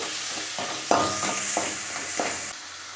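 Masala being stirred into sautéed tomatoes in a pan for egg gravy, a spoon scraping in several rhythmic strokes over a steady close sizzle, with no talk.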